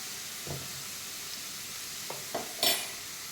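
Onions fry in a pan with a little salt, a soft steady hiss broken by a few quiet scrapes and clacks of stirring, with one sharper clatter near the end.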